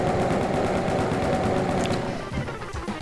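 Rapid continuous chain gun fire aimed at demons in the video game Ultimate Doom, a dense steady mechanical rattle that thins out near the end, with nobody speaking.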